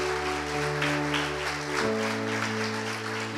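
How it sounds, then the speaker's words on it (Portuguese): A church congregation applauds steadily, a dense wash of clapping running under sustained organ or keyboard chords that shift partway through. "Vamos aplaudir Jesus?"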